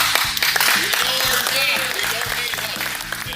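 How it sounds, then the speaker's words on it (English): Truckers in a conference audience at an FMCSA GBATS session break into loud, sustained applause, with dense clapping throughout and a rhythmic thumping underneath. "In terms of applause, that right there might be the number one biggest eruption of the entire talk"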